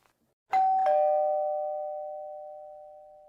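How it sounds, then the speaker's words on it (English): A two-tone ding-dong doorbell chimes once, close and clear, its second note ringing out and slowly fading in an otherwise quiet room. "I rang the bell."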